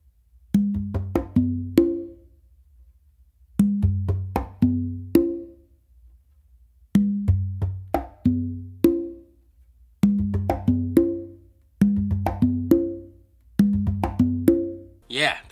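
Second half of a bingba groove on bongo and conga, played close and alone: repeating phrases of quick ringing drum strokes, each phrase a cluster of hits followed by a short gap, looping steadily five times.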